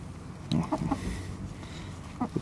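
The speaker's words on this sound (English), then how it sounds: "This is the broody hen, Lottie." Broody hen named Lottie, sitting on unfertilized eggs, lets out a few short clucks and grumbles close by, spaced out over a couple of seconds with quiet between them.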